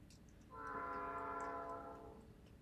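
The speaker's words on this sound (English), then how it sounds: "Train." A passing train sounds a steady, sustained horn chord that swells in over low rumbling rail noise, holds for over a second, then fades as it moves off at a distance.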